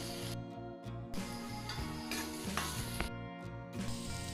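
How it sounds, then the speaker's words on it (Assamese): Brinjal frying in a pan: a continuous close sizzle with occasional clicks and scrapes, fairly soft, over a steady tonal background. "বেঙেনাখিনি আমি প্ৰথমে ফ্ৰাই কৰি ল'ম"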